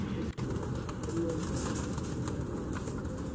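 Pigeons of the Been Pahalwan breed kept on a Delhi rooftop, giving soft repeated coos over a steady outdoor background, faint and unhurried, with one sharp thump near the start.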